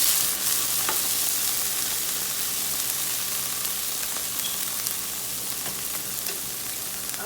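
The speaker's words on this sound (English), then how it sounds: "We're going to let that all saute for a little bit." Onions, peppers and garlic sauté in a pan with a steady, close sizzle and crackle that holds evenly throughout, with no one talking.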